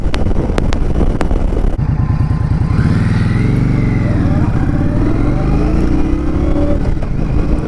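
A 2023 Indian Scout Rogue motorcycle accelerating hard through the gears, loud engine note rising and falling with shifts, heard from the rider's position under heavy wind rush.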